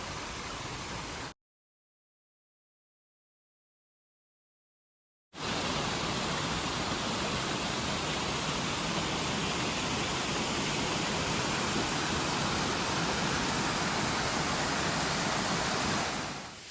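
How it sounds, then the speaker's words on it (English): Waterfalls and cascades roar beside the Appalachian Trail, a dense broadband rush of falling water, loud and steady, cut briefly by a few seconds of silence before resuming. "there's beautiful waterfalls to my left"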